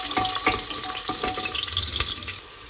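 Garlic and curry leaves crackle in hot oil for a tomato chutney, close steady frying with repeated scraping stirs of a spoon against the pan, easing off near the end.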